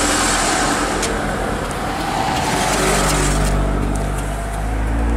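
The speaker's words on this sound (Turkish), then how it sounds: "Yollar senin değil, araba geçiyor." A car passes close by on a road during a drive home from a seaside holiday, its engine and tyre roar steady and loud for several seconds with a low rumble underneath.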